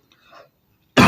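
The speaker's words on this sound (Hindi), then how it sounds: "खांसी जा ही नहीं रही यार," A single short, loud cough bursts out abruptly at the very end after near silence and faint breathy sounds.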